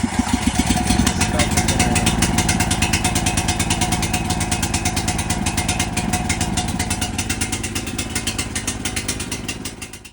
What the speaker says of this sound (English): the generator ran for about, I don't know, 90 seconds